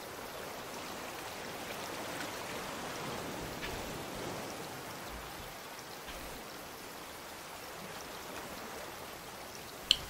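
Stormy rain in the survival game Raft, a steady hiss of heavy downpour spread evenly across the whole stretch, fairly quiet and unbroken, with a brief sharp tick near the end.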